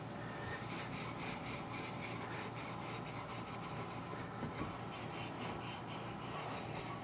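A green Scotch-Brite pad scrubs the inside of a suspension bushing for an R53 MINI Cooper rear end, a steady, close abrasive rubbing with quick rhythmic back-and-forth strokes and no talking.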